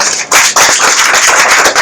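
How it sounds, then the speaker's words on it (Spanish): An audience breaks into loud, dense applause, a burst of many hands clapping close and sustained for a couple of seconds with no voices over it. "Dale un fortísimo aplauso, por favor."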